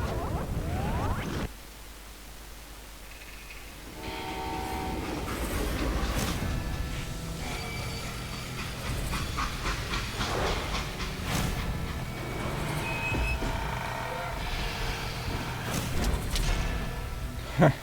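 Train running in the video game Call of Juarez: Gunslinger, a rumbling rolling drone with metallic clanks and screeches that builds after a quiet stretch, heard alone and fairly close.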